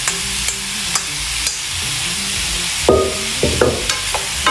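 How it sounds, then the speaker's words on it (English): Thin marinated steak pieces sizzle loudly in a pan while a utensil scrapes and knocks against it, breaking up the meat in several distinct strokes over a constant hiss, heard up close. "I like to keep moving it around, keep breaking up the meat pieces as much as possible."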